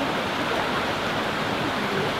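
River rushing through Lydford Gorge, a steady, dense broadband wash of water with no breaks and no voices, fairly close and constant throughout.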